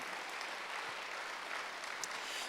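Steady applause from a church congregation at a Wednesday worship service, a broad even wash of clapping that holds at a moderate level throughout with no voices over it.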